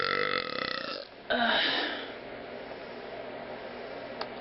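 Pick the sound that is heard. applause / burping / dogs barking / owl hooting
burping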